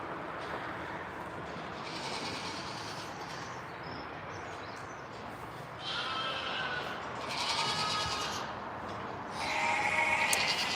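A newborn goat kid bleats repeatedly inside a barn, the high wavering cries coming in several separate bursts over a constant rustling background.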